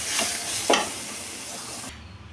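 Thuthuvalai leaves fry in hot oil for a chutney, giving a steady close sizzle with a brief louder crackling burst, and the frying noise continues to the end without talk.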